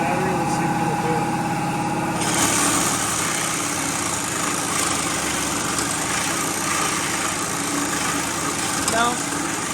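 A battery-powered reciprocating saw cuts through metal during a bigwheel build, a loud sustained high-pitched buzzing rasp that starts abruptly and keeps going without a break, with voices talking over it.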